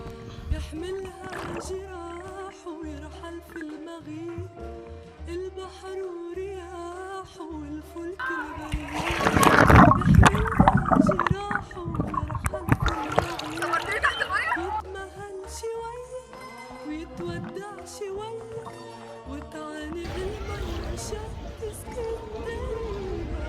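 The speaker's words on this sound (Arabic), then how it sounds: "ودي مجموعه من اللقطات اللي بوريكم فيها نفسي وانا ببلبط" Water splashes and sloshes as a person plays in the sea at a beach in Alexandria, with a loud burst of splashing midway amid waves and faint voices.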